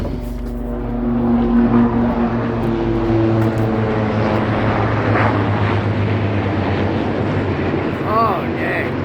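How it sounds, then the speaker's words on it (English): A helicopter flies overhead, its engine drone and rotor hum steady and fairly loud for the whole stretch, with faint voices briefly near the end. "Helicopter coming out to check the prophet out."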